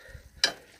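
Passata being stirred into browning mince in a pan in a small campervan kitchen, heard as a single short, close scraping sizzle that rises sharply and fades under a faint background hum.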